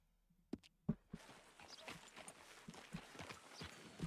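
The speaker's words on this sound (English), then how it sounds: "Horse is doing some dressage tricks, walking sideways and stuff." Horse hooves in Red Dead Redemption 2 stepping through a dressage-style sideways walk, a few sharp clip-clop strikes standing out over a busy town background with faint talk.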